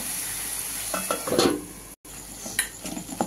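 A spoon stirs and scrapes through a pan of kochu phul (taro stolon) frying in oil with a steady sizzle, then a lid clinks down over it during a brief pause, followed by more faint clatter.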